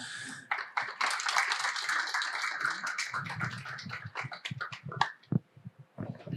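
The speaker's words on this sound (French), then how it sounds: "je vous demanderai de les accueillir par vos applaudissements" A conference audience applauds to welcome the speakers, a dense burst of clapping that thins out into scattered claps before fading.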